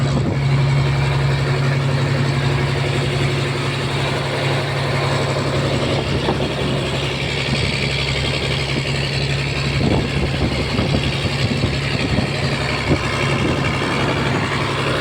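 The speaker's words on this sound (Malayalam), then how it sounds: "എഞ്ചിൻ്റെ നല്ല ഇരപ്പുണ്ട് എഞ്ചിൻ പെട്ടി തുറന്നു വെച്ചാൽ അങ്ങനെയാണ്" A fishing boat engine runs with its engine box open on the Arabian Sea, a loud, steady, close roar with a deep rumbling drone and faint irregular knocks throughout, and no voices.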